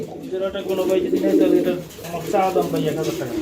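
Pigeons coo steadily at a pigeon market, where running gola pigeons are sold in pairs; soft, continuous cooing from several nearby birds fills the clip with a murmur of market voices beneath.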